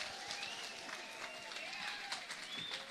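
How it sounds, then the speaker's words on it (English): Faint, steady audience applause at a Kash Patel book tour kickoff event in The Villages, Florida, with a voice talking over the clapping. "Huge round of applause for Kash, guys."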